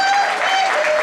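A studio audience gives a brief burst of applause on a French television show, steady and close, while a voice carries over it.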